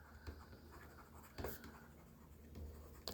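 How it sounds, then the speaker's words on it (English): A pen scratches across paper in short, irregular strokes, close and very quiet, with no voice over it. "Let's write it down."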